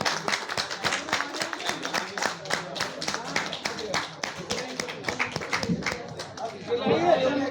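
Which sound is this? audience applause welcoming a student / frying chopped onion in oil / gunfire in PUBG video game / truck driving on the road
audience applause welcoming a student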